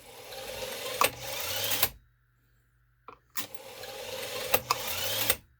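A Milman Engineering multiple-pitch leadscrew tapping machine runs through a pedal-triggered cycle, a loud broadband mechanical whirring that runs about two seconds. After a silent pause and a brief clunk, a second run-up follows, with sharp clicks within each run.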